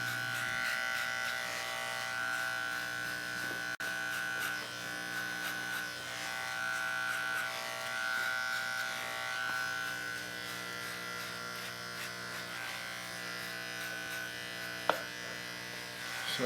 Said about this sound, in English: I'm just tipping my guard, tipping my clipper.